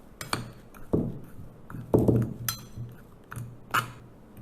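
Flour and corn flour with a pinch of salt are stirred in a bowl, making a handful of sharp clinks and scrapes of a utensil against the bowl at irregular intervals, close by.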